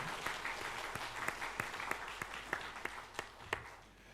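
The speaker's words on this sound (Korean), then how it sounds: "우리 다시 한 번 더 박수로 축복하시겠습니다." A church congregation applauds after a choir's hymn at a Sunday service, with fairly sparse claps and some distinct sharp individual claps standing out at a steady rhythm.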